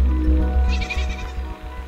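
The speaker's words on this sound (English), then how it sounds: "We spied a few worthless sheep lazing around in the meadow." Sheep in a meadow in the video game Superbrothers: Sword and Sworcery give a short wavering bleat over a steady low rhythmic musical background.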